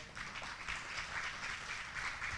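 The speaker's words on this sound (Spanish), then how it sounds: "Alguien le da un aplauso al Señor" A church congregation applauding during a sermon, a steady wash of many hands clapping at a distance, moderately faint, with no talk over it.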